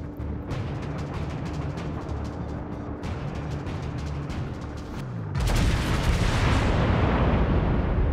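Big naval guns firing in World of Warships, heavy booming salvos over a steady rumble of battle ambience, with a louder, sustained blast near the end.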